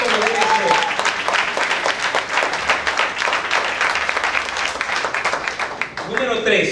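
A church congregation at a Sunday morning sermon claps in a strong, sustained burst of many hands, loud and close, with a voice speaking over the end of the clapping.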